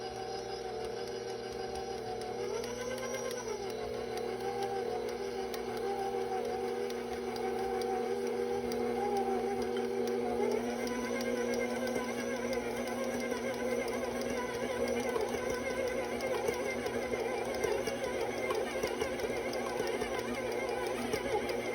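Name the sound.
stand mixer mixing cookie dough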